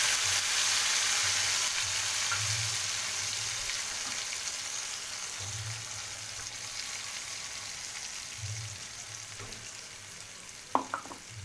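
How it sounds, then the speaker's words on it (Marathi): Ground peanut, garlic and coconut masala fries in oil in a wok, giving a steady close sizzle that slowly fades, with a sharp clink near the end and no voices. "छानपैकी तेल सुटेपर्यंत मसाला भाजून घेऊया."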